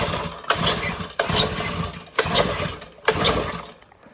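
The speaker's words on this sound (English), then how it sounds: "See if it'll fire up." A turbocharged V-twin lawnmower engine cranks repeatedly, four loud pull-start bursts about a second apart, each sputtering briefly without catching, heard close up with no talk.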